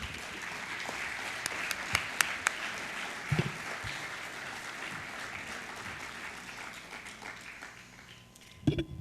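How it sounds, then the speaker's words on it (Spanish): An audience at a provincial economics and agricultural policy congress in Argentina applauds a speaker taking the stage: a soft, sustained wash of many hands clapping, fairly distant, with a few sharper claps and a louder burst near the end. "Por favor, recíbanos con un aplauso."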